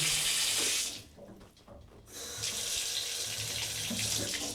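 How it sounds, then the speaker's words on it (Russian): Water runs from a tap into a sink in a rented apartment in Germany, a steady close hiss that drops away briefly near the middle and then returns at full strength. "Теплая вода есть, это уже хорошо."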